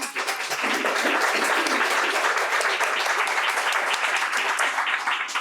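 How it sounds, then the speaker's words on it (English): An audience at a school Student of the Month ceremony gives a steady round of applause, dense clapping holding at an even volume for several seconds. "give you a great round of applause"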